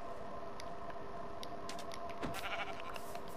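Sheep bleating in Minecraft, several wavering bleats repeated over a steady background hum, moderately close and clear with no talking.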